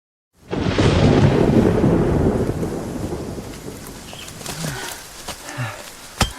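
Thunder rumbles loudly and continuously as rain pours down in a mountain area, the roar easing after the first seconds into steady rainfall with scattered drops and a few sharp cracks near the end.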